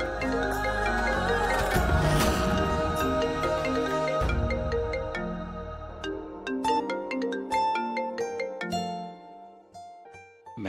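A mobile phone rings with a bright melodic ringtone, loud and nearby, repeating its tune without any talking.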